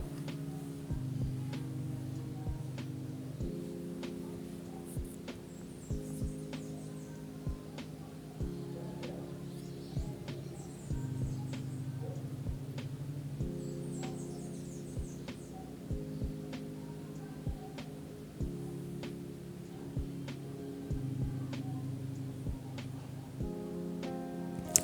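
A sewing machine runs a straight seam on a lined women's blazer, giving a faint, steady motor hum with regular rhythmic clicking of the needle, and no one speaks.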